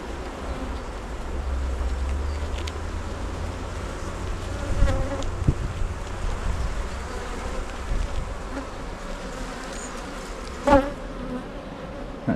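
Honey bees buzz in a dense, continuous drone while hive 1 is opened for inspection, with a few individual bees passing close and briefly louder against the steady swarm hum.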